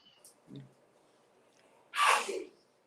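A single sharp sneeze bursts out after a soft breathy sound, fairly close and loud against a quiet room.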